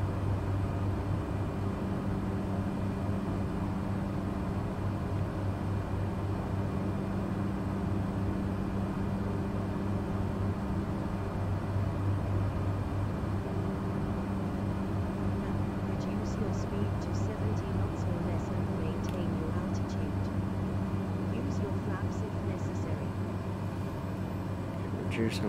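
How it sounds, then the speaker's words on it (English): The Cessna Caravan turboprop in Microsoft Flight Simulator 2020 drones steadily with a low hum through a night flight, continuous and even, while someone talks over it almost the whole time. "Back off the throttle a bit so we're not maxing RPM."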